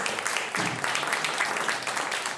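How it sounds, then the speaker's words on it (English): Comedy club audience in London keeps clapping, a sustained patter of many hands, fairly loud and even, with a faint voice briefly underneath. "Keep it clapping, keep it clapping."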